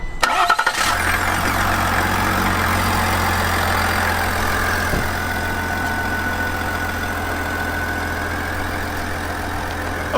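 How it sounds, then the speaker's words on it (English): A 2021 GMC Yukon Denali diesel engine cranks and catches with the hood open, then settles into a steady, loud idle with a low rumble that runs on without pause. "Let me start the engine with the hood open"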